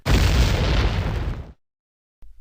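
A loud cartoon explosion from a Majora's Mask parody series bursts across the full range and rumbles for about a second and a half, then cuts to silence before a low rumble returns at the end.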